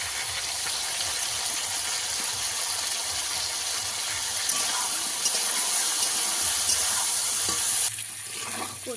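Chunks of taro fry in hot oil and are stirred in a pan, giving a steady, close hiss of sizzling with scraping stirs throughout and no talking.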